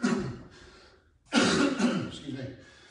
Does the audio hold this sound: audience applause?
no